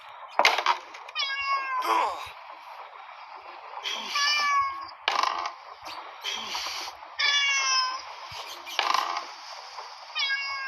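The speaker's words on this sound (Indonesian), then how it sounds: "Di mana suara kucing ya?" Repeated cat meows in the audio game Rosemary's Fate, several drawn-out calls spaced a second or two apart, fairly clear over a faint background hum.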